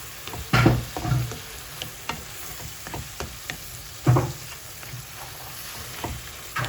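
Stuffing for stuffed bread stirred in a pan with a spoonful of tomato paste: a soft sizzle underneath, with a few louder scrapes and clacks of the utensil at irregular moments, close and with no talking.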